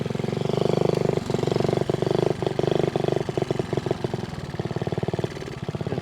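A Honda Z50A motorcycle engine idles loud and close, holding a steady low throb that refuses to rev up, broken by irregular stumbles and short blips near the end.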